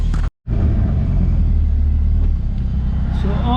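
A Mazda RX7 with a swapped Honda K-series engine idles while warming up, a loud, steady, deep exhaust rumble close by after a brief cut at the start, with a faint voice in the background.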